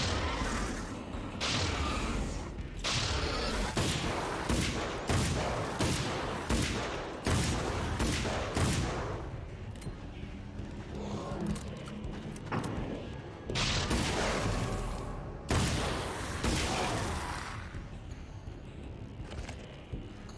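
Carbine gunfire in the video game Alan Wake's American Nightmare, repeated sharp loud shots in bursts and single cracks spread across the whole stretch, with game combat effects and brief pauses between volleys.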